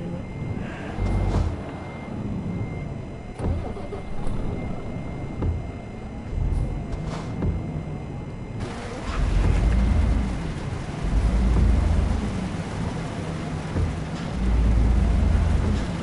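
Truck engine in Euro Truck Simulator 2, a low droning hum with rising and falling revs, louder and rumbling in the second half, with no talk over it.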